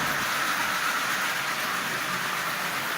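A Lionel model train locomotive, fitted with a DC can motor and diodes, runs on AC track power, giving a steady, close, even whirring hum with no breaks.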